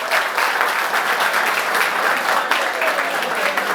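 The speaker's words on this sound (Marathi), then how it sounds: "म्हणून माझ्यासाठी जोरदार टाळ्या एकदा झाल्याच पाहिजे." Students applauding loudly at a college road safety awareness event, a dense, sustained roar of many clapping hands filling the whole stretch, strong and even with no break.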